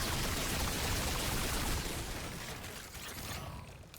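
Explosions in the video game Remnant II fill the scene with dense, loud rumbling bursts and crackling debris that gradually thin out and fade, with no voices over them.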